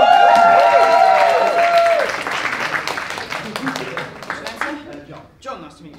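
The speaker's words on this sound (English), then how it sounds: "Give him a round of applause, ladies." Student magic show audience applauding a volunteer called onstage, sustained clapping over a loud sung or held tone at the start, then thinning into scattered claps before fading out.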